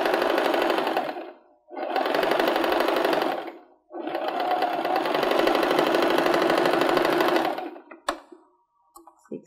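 A sewing machine stitching a cushion, running in three long continuous bursts separated by short pauses, a close, even mechanical whir, followed by a few faint clicks and handling noises at the end.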